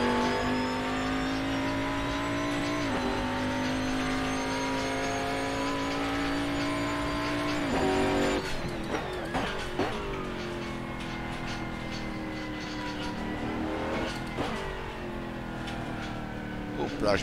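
Mercedes-Benz CLR-LM race car engine in Assetto Corsa, a loud continuous drone with steadily rising revs, gear changes around eight and fourteen seconds followed by falling and climbing pitch, with someone talking over it.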